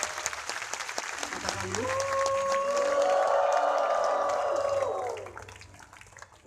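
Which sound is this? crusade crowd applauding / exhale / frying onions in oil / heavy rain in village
crusade crowd applauding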